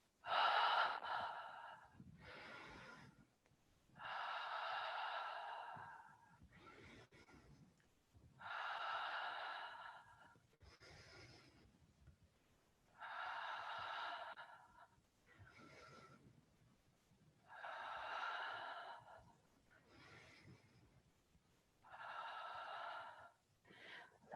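Rhythmic breathy exhales with a voiced H-sound, repeated about a dozen times in a steady in-and-out cycle during a Qigong exercise, close and clear with short pauses between breaths.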